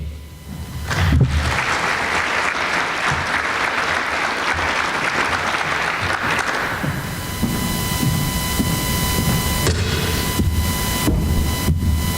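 Sustained applause from the audience at the 2017 Pioneer Hall of Fame as a speaker is welcomed to the stage, steady and full for about twelve seconds with a faint electrical hum underneath and no talking.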